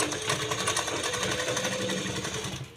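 A domestic sewing machine runs steadily, double-stitching soft fabric pieces together for a small baby's bunny-ear cap, its rapid needle chatter continuous and close throughout.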